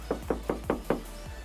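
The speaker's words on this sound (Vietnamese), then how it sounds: "Tranh thủ mình gõ gõ thân xe nè" Five quick, evenly spaced knocks strike the body panel of a Wuling HongGuang Mini EV car, close and hollow-sounding over a low steady hum.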